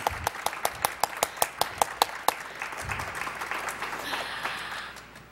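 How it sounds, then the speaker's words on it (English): At a gala celebration, a few people clap in a quick, sharp rhythm that spreads into broader, softer applause from the audience, moderately close and without talking. "Join me in giving him a round of applause."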